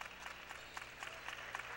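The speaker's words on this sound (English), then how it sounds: "And there are the claps." Scattered crowd applause at the end of a Western University Mustangs versus McMaster Marauders university basketball game, soft and distant, a patter of claps drifting through the arena.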